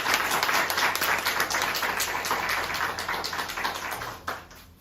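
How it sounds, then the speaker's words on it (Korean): A church congregation at Sunday worship claps to welcome missionaries back from Argentina, a dense, steady roar of many hands filling the room for about five seconds, tapering slightly at the end. "먼저 우리 아르헨티나에서 사역하고 돌아오신 우리 정상훈 선교사님과 한초희 선교사님을 박수로 앞으로 모시도록 하겠습니다"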